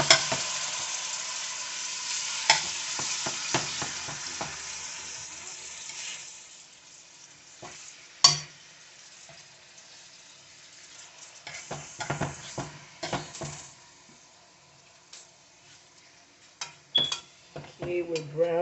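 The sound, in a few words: bean steak browning and sizzling in a pan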